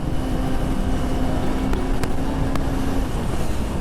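A Yamaha MT-03 quarter-liter motorcycle riding on a city road, a steady, loud engine drone mixed with wind rush, with a few sharp ticks standing out partway through and no talking.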